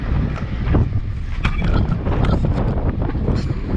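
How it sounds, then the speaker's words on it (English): Strong wind on a windy day in Florida roars and buffets the microphone in a steady, dense rumble with brief gusty surges, with no voices. "Super windy day."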